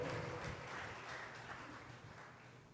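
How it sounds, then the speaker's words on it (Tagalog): A church congregation applauding loudly for the Lord during preaching, a dense wash of many hands clapping that starts strong and slowly fades over a few seconds. "pumalakpak ng malakas sa ating mahal na Panginoon."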